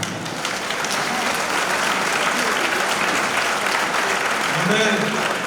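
A church congregation applauds to acclaim the Lord during a service, a steady, full round of clapping from many hands that carries on throughout.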